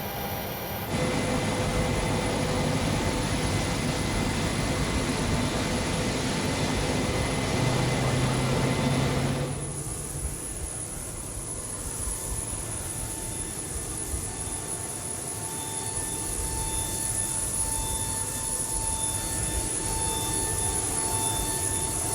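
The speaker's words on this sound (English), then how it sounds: "we'll give it a second for the electrical motors to spin" Cockpit ambience from an FSS 727 flight simulator game, with a loud broadband hum while the electric trailing-edge flap motors run for several seconds, then drop to a quieter steady drone with tonal whines.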